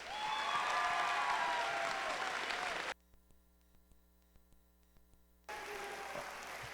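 Crowd applause at a FIRST Robotics Competition opening ceremony, a full burst of clapping that abruptly cuts to near silence with faint hum, then returns just as suddenly.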